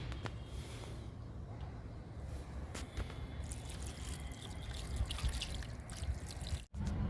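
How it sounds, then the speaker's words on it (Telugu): Liquid fertilizer trickles and drips onto a potted plant, a soft, close pour over faint steady background noise, with no talking. "ఈ మొక్కకు కూడా ఇస్తున్నాను లిక్విడ్"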